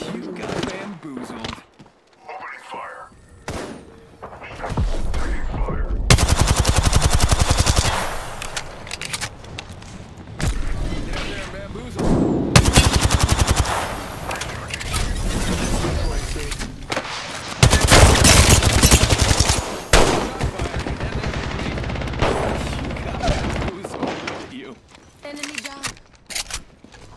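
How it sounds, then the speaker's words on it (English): Gunfire in the video game Apex Legends, with loud, dense bursts of automatic fire and heavy booms that repeat across the stretch, broken by short lulls, while voices come and go in between. "Opening fire. Taking fire."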